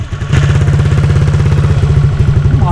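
Honda Click 125 V2 scooter fitted with an RCB Flow Pro exhaust and a remapped ECU idles close by, a steady low, pulsing putter with a slightly rattly, uneven rhythm throughout, alone without speech.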